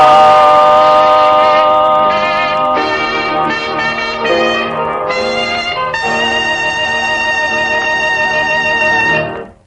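A 1949 song plays as sustained, tonal music in stepped phrases, continuous and fairly loud, before cutting off sharply at the end.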